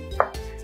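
A single knife chop through garlic cloves on a cutting board, one short sharp knock, close and alone.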